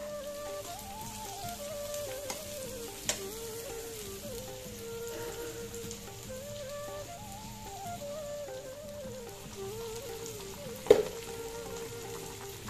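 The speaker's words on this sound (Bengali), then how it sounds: "চিংড়ি মাছ দিয়েও ভালো করে ভেজে নিতে হবে" Chillies and shrimp frying in a pan give a steady, moderate sizzle and crackle throughout, with a few sharp clinks of a utensil against the pan over low background music.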